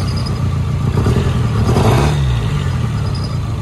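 A Toyota 4AGE car engine idles roughly and misfires, with a loud, uneven running rumble and a brief rise in revs around the middle, heard close up with no talking.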